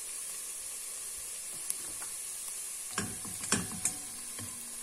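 Onion frying in a pan for soup gives off a steady soft sizzle, with a few sharper pops and stirring clicks late on. It is quiet and close, with no voice over it.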